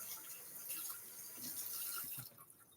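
Faint running tap water splashing in a kitchen sink while a spoon is rinsed under it, a soft steady hiss that tapers off at the end.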